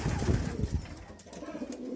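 Racing pigeons the day after a race, before their first training flight, give soft low cooing and rustling close by, a steady murmur with no talk.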